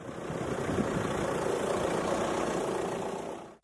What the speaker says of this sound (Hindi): ट्रैक्टर उछल कूद कर चल रहा था।